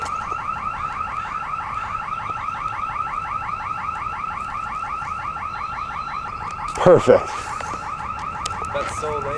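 A car alarm blares a fast, repeating warble in a steady loop at moderate distance, briefly interrupted near the end by a couple of louder knocks and a short spoken word.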